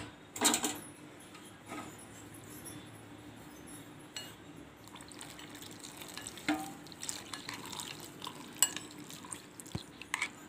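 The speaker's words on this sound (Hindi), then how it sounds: "अब मैं इसमें धीरे धीरे पानी ऐड करूंगी।" Water poured slowly into semolina in a bowl in a home kitchen, faint trickles and light clinks of utensil against the bowl, close and quiet, with no talk.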